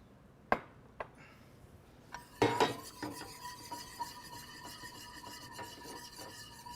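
Meat being stirred with sake in a pan by a Japanese restaurant chef: scraping, rasping utensil strokes against the pan with a few sharp clinks, steady and close, no talk.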